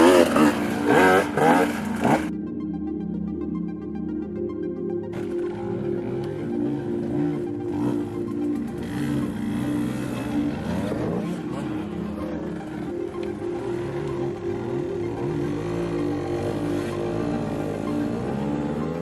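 A 2022 KTM/Husqvarna 150 TPI two-stroke motorcycle engine revs loudly and close, holding a steady buzzing drone with rising and falling throttle blips throughout.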